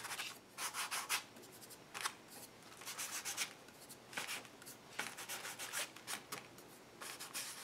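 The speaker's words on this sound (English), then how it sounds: "I'm going to bring in this color with the pan pastel just a little bit with my fingers." Fingers rub pan pastel onto paper in short bursts of soft, dry scratchy swishing, irregular strokes up close and faint, with brief pauses between them.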